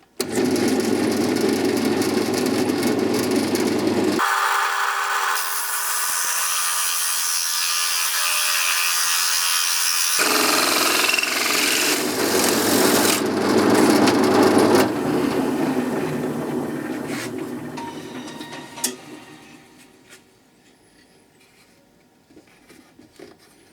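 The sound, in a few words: drill-mounted wheel cutter cutting wood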